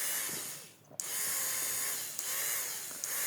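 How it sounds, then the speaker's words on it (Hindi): A high-torque, high-speed DC motor runs steadily as a drill, a continuous close whine with a brief dip and a few small clicks. "ड्रिल करने के लिए बहुत ही परफेक्ट मोटर है"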